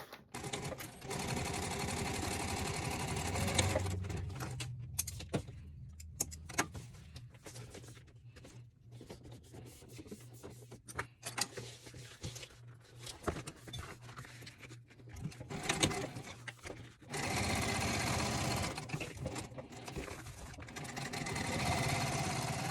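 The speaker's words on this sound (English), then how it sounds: "what we're going to do is stitch this bottom edge at a 1/4 inch seam allowance" A sewing machine stitches the bottom seam of a fabric gift bag in long steady runs, loud and close, broken by a quieter stretch of short stops and starts before sewing resumes.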